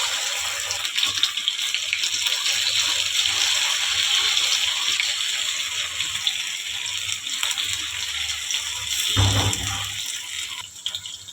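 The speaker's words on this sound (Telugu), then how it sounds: "నేను డీప్ ఫ్రై కోసానికి ఆయిల్ పోసుకున్నా చికెన్ వేయించుకోనికి" Chicken pakoda pieces deep frying in hot oil hiss and sizzle continuously at close range, with a louder burst of bubbling near the end and no talk over it.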